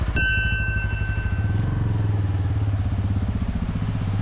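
A motorcycle engine runs close by with a steady, throbbing rumble on the way up to the Nagni Mata temple in Jawalamukhi, Kangra, after a short high whine at the start.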